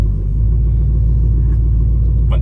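A lifted truck's engine rumbles deep and steady at close range as it rolls in and parks between an old Ram and an OBS truck, alone without talk.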